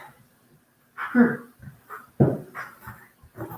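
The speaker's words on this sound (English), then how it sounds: "that sounds like a dog just jumped off my bed." A dog moving close by, with a couple of short bursts of thumping and snuffling separated by quiet pauses.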